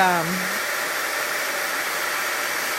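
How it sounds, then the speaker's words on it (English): Heat gun blowing steadily to melt embossing powder on a card, a loud constant airy whoosh close by with a brief voice at the very start. "I never get tired of heat embossing"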